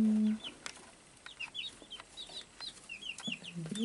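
Baby chicks, including buff Brahma and Golden Lace Wyandotte, explore a new enclosure, giving out scattered high, thin peeps and chirps in quick bursts, close and fairly soft, with a few lower clucking notes.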